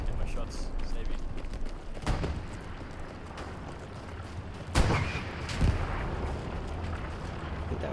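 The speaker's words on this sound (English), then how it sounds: "I think that was our tank." Tank cannon fire in the World War II shooter Hell Let Loose at El Alamein, heard as a few heavy booming blasts among sporadic gunfire and battle noise, with a player talking over it.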